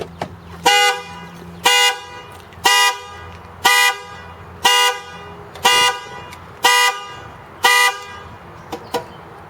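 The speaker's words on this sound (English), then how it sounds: "Pretty loud horn, so if that thing ever goes off, you'll definitely hear it." The alarm horn on a bagged 1995 Ford Ranger pickup honks in eight loud, evenly spaced blasts about one second apart, heard close up, followed by a couple of faint clicks.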